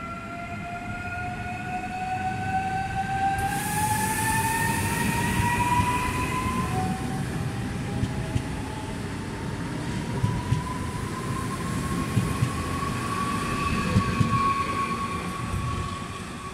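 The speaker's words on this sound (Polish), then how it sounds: "Odjeżdża pociąg Intercity Morcinek relacji Katowice - Lublin Główny. ED74008." An Intercity 'Morcinek' electric multiple unit, ED74, pulls out of Katowice bound for Lublin Główny, its traction motors whining in rising tones over a steady rolling rumble as it gathers speed.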